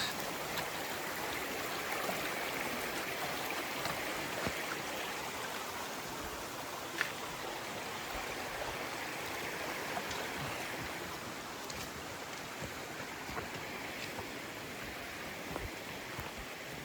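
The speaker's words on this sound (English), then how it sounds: "Got another little creek crossing here." A small creek flows steadily along the Appalachian Trail at a crossing, a continuous even rushing and babbling of water heard up close, with no voices and only faint occasional knocks over the flow.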